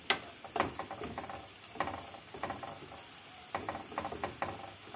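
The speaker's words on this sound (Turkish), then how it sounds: "Ben soğanı kavururken tuz ekliyorum." Onions sautéing in a pan with salt added, giving soft intermittent sizzles and scraping stirs in small bursts, quiet and close with no talking.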